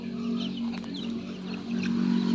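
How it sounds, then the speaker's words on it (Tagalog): Backyard chickens clucking softly and steadily near an avocado tree, with a constant low hum running underneath throughout. "Siyempre yung mga chicken ko."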